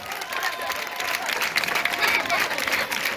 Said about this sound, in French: Je vais vous demander d'applaudir encore Madame le Proviseur du lycée 3.